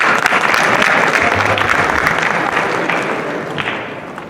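Concert audience at a school winter band event claps for a prize raffle winner, a loud, crowded round of applause that stays steady and then tapers gently, with a few low thuds underneath.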